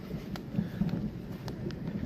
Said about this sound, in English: I think you can hear the thunder cracking